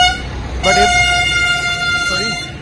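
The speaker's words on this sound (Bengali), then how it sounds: "Sorry horn বাজছিল।" A loud, close truck air horn blares in a long sustained blast on a drive from Kolkata to Gadiara, then gives a shorter second toot, with road noise running underneath.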